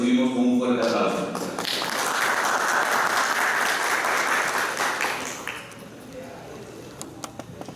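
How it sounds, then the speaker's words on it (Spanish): Strong applause from a lecture audience welcoming a speaker to a law course, rising after a brief voice, holding steady for several seconds, then thinning into scattered claps and fading. "Por favor, lo recibimos con un fuerte aplauso."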